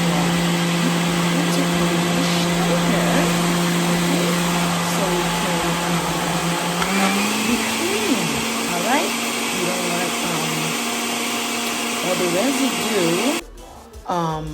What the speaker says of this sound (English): So now we are blending our Sos Pwa.